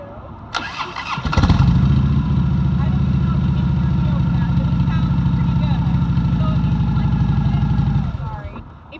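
Harley-Davidson motorcycle with two-sided exhaust pipes cranks and fires up, then settles into a loud, deep, steady idle rumble for several seconds before shutting off.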